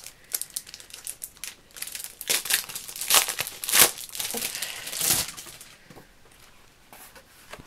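Plastic packaging around scrapbooking stamps and dies is crinkled and torn open, giving a close, continuous rustling that rises into louder crackling bursts before fading.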